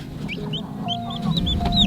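A broody hen on a farm clucks softly and repeatedly in short chirpy notes, fairly close, over a low steady background rumble with no talking.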